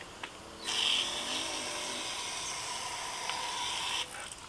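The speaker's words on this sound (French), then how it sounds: "Je vais vaporiser" Car fabric cleaner sprayed from a can in one continuous hiss lasting about three seconds, fairly close and alone.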